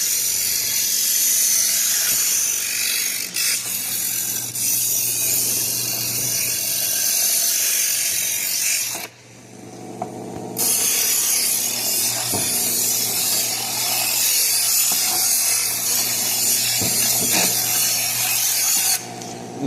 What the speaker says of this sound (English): We now have the lamest way to sharpen a knife.